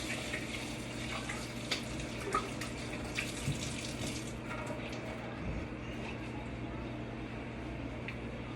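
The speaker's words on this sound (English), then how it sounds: "Wash my hands real quick." Tap water runs steadily into a kitchen sink while hands are washed, a continuous soft hiss and splash heard close up, with faint background hum and occasional small knocks.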